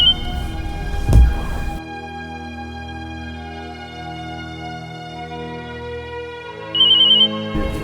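A mobile phone ringtone plays as a repeated incoming call goes unanswered, a sustained electronic melody that starts after a short burst of noise and runs loud and alone, with no voices.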